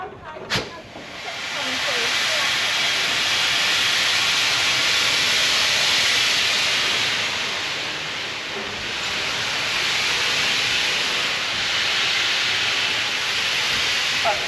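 Steam locomotive 80151 on a heritage railway gives off a steady, loud hiss of steam that swells and eases slightly over its length, with a brief sharp burst near the start.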